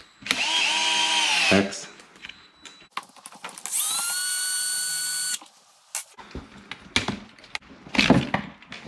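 Power driver undoing the links on a Losi LMT with a 2.0 millimeter bit, two whirring bursts of a second or two each, then clicks and handling sounds, with brief talk.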